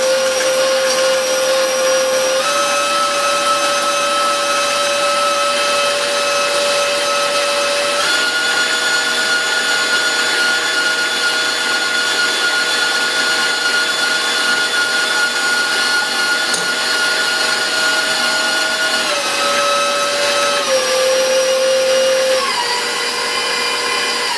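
An electric mixer creams butter for eggnog cake frosting with a loud, continuous motor whine whose pitch steps up and down slightly as the speed shifts, running unbroken with no talking.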